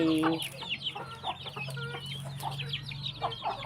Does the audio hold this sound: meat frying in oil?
no